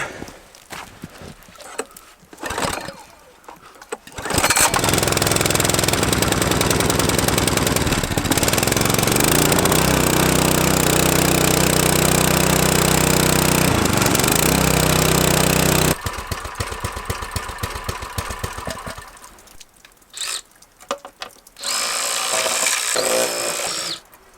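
Predator 6.5hp 212cc engine on a Wards snowblower roaring steadily at full throttle for about twelve seconds, loud and close, then dropping back with rougher, quieter running and clanks around it.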